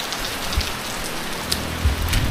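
Steady rain pattering on a surface, a constant wash of drops with occasional heavier splats, no voices.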